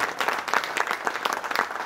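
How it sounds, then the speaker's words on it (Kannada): An audience at a public speech breaks into applause, a dense, steady patter of many hands clapping together at moderate loudness, with no talk over it. "ಚಪ್ಪಾಳೆ ಹೊಡಿರಿ ಈ ಧೀರ ಯೋಧರಿಗೆ ಹೊಡಿಬೇಕು"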